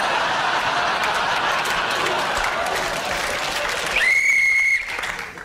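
Loud studio applause, then a single sharp whistle blast signalling the end of a game that cuts through near the end and holds for under a second.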